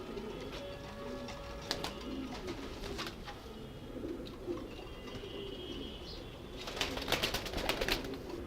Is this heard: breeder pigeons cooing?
yes